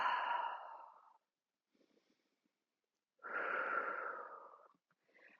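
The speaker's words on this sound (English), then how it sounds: "Inhale and exhale." Two long, breathy exhales during a Pilates reformer stretch, each lasting about a second, close and fairly soft, separated by a quiet pause with faint rustling and no talking.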